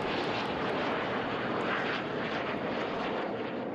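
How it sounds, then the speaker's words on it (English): Jet planes roaring overhead at the Atlantic City Airshow, a steady, loud broadband engine rumble that fills the whole stretch without a break. "Jet planes are soaring through the sky for the signature summer event."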